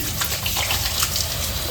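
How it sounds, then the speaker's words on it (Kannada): Water poured into a cooking pot while making a quick gojju, a steady close gushing splash lasting under two seconds with no talk. "ನೀರು ಹಾಕಿನಿ."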